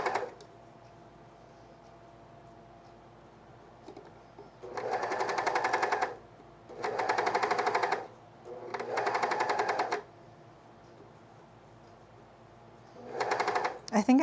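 A sewing machine stitches the hem of a fleece quarter-zip pullover in four loud, fast bursts of needle chatter separated by quiet pauses.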